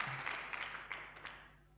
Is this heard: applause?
yes